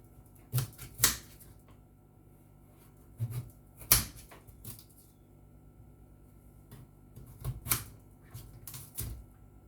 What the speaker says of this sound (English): now I'm going to cut my carrots into matchstick